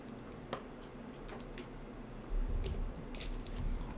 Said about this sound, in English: Let me take a sip of water again.